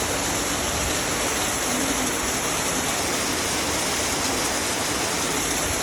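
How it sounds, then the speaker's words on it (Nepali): A dense, constant roar of heavy rain or rushing water fills everything evenly, loud and unbroken with no pauses. "यति धेरै ठुलो पानी परेछ नि"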